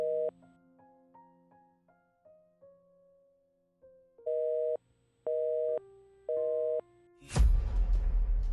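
A phone call that fails to connect, starting with keypad dialing tones, then three even busy-signal tones with short pauses, ending in a sudden burst of noise.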